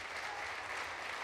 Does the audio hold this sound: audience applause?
yes